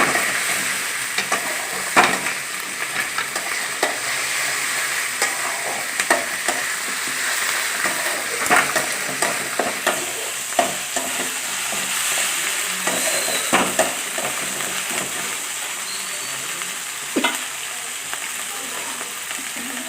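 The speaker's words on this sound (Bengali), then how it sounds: "আদা রসুন ভাজা ভাজা করে নিতে হবে, নাহলে আদা রসুন থেকে কাঁচা একটা গন্ধ বেরোবে।" Ginger garlic paste fries and sizzles in a pan for an egg curry, a steady crackling hiss broken by frequent scraping clicks as a spatula stirs it, close and alone with no talking.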